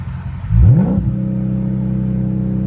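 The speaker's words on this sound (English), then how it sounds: "So I'm finna do a burnout first?" A Dodge Scat Pack engine blips sharply during a burnout, swooping up and down in pitch, then settles into a loud, steady, throbbing rumble at close range.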